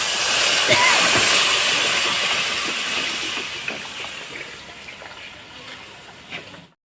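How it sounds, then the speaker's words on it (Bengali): Water pours into a pan of thin fish curry with parshe fish and papaya, making a steady loud hissing rush that gradually fades over several seconds. "তরকারিটা ছাপিয়ে আমি পরিমাণ মতন মাছের ঝোলের জন্য জল দেব"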